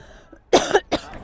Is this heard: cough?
yes